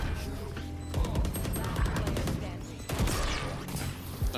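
Gunshots in the Valorant video game crack in several sharp, close reports spaced across the stretch, mixed with mechanical clicking and game effects, while players talk over the action.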